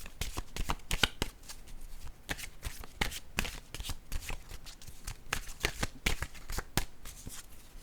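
A deck of cards being shuffled and a card drawn, giving steady riffling and snapping clicks close by with no voices, the crisp flicks repeating throughout.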